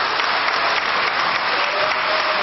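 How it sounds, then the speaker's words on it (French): Applause fills the French National Assembly during a 1998 vote, a dense, steady wash of many hands clapping at once from a large chamber crowd, with no pause or break in the sound. "Applaudissements et huées partagent l'Assemblée à l'image du vote"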